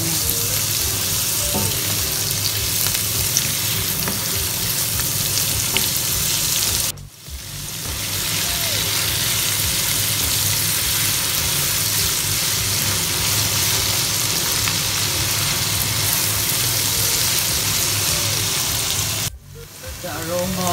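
Garlic and onions frying in a pan for a Cebuano humba recipe, a loud continuous close sizzle with two brief dips, steady throughout, with a voice faintly under it.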